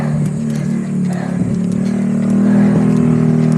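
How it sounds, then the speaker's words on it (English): A motorbike approaching on a steep mountain road climb toward Antamok, its engine a steady rising drone that grows louder and nearer over the few seconds, with a faint bit of background clatter. "Motorbike approaching."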